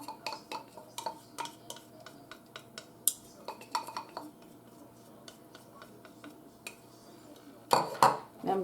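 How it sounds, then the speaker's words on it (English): Cutlery scraping and clinking against a dish while ingredients for glazed pineapple chicken are stirred together, a steady run of close, light clatters and taps ending in a few louder knocks. "Now I'm just going to mix this all up."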